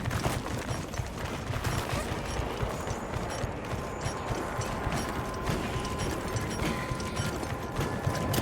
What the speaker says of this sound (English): Try dispersing the pack by firing a large dung pod.